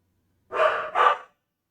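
Two quick barks from a dog, close and fairly loud, back to back, then silence.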